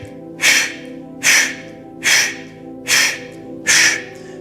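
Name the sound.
Kapalabhati diaphragmatic breathing exhales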